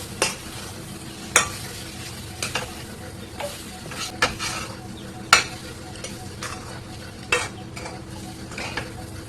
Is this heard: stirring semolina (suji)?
yes